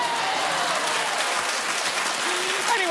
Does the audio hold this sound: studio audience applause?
yes